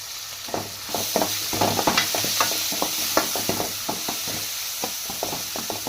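Turmeric-and-salt mixture stirred in a frying pan, a spoon scraping in steady uneven strokes over a soft continuous sizzle, close and fairly loud with no talk.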